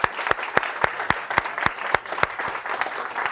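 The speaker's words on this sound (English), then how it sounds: "We can get a better round of applause for that, can't we?" An audience at a book event in a store claps, with sharp individual claps landing in a quick, fairly regular rhythm throughout, close and moderately loud, with no talk over it.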